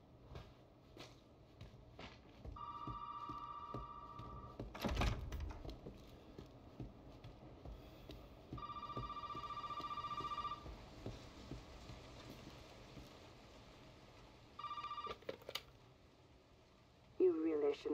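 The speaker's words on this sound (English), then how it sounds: "Phone's ringing." In Resident Evil 7, a telephone rings in repeated bursts of an electronic tone with pauses between them, heard faintly behind a thump and quiet background sounds.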